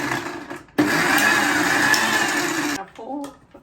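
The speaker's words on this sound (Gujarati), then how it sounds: "હવે એને મિક્સચરમાં ફેટી" A kitchen mixer-blender starts abruptly and whirs loudly and steadily for about two seconds, whipping custard apple pulp with sugar for a shake, then stops, with someone speaking before and after.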